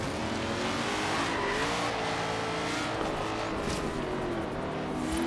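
A racing car in the Forza Horizon 3 video game driving hard through a turn, its engine whining steadily with rising and falling pitch and some tire squeal, loud and continuous without talk.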